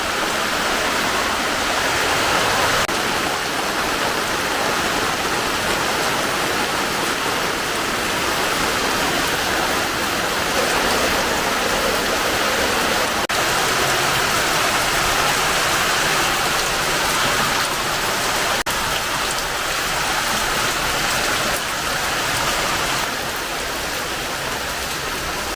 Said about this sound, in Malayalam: നല്ല മഴയാണല്ലോ.